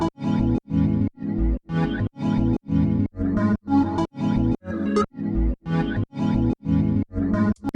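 Resampled chops from a Serum 2 synth patch play as a rapid series of short, punchy tonal bursts, about a dozen evenly spaced hits with brief gaps, loud and up front with no voices.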